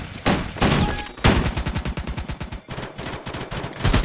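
Gunfire in the Free Fire video game comes in loud, rapid automatic bursts of close shots, with short single cracks and brief gaps between the volleys.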